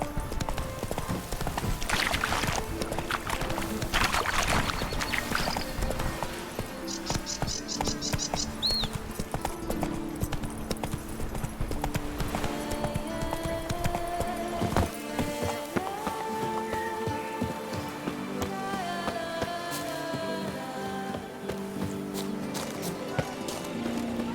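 Roach, a horse in The Witcher 3: Blood and Wine, trots with steady rhythmic hoof clip-clops, close and continuous under game music and ambient tones.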